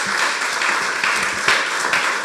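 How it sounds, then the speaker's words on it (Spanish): A church congregation applauds in loud, sustained rhythmic clapping that fills the space continuously, with a few sharper bursts and no talking over it. "Dale fuerte ese aplauso al que vive."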